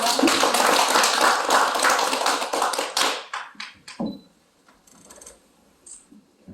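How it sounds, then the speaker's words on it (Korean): An audience at a healing tea-time culture salon claps loudly and densely for about three seconds, then the applause thins into a few scattered claps and fades into near silence. "큰 박수 부탁드리겠습니다"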